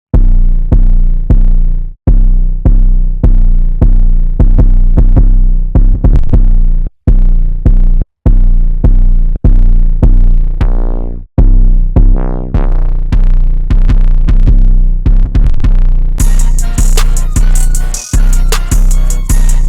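808 bass pattern in Ableton 12 with drive distortion, loud, repeating deep booming notes in a steady rhythm, some pitch-gliding, with a bright distorted crackle added toward the end.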